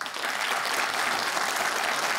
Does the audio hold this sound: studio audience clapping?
yes